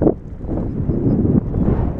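Outdoor wind on a sunny day buffets the microphone in loud, rumbling gusts that swell and dip continuously for the full couple of seconds, with no other clear sounds.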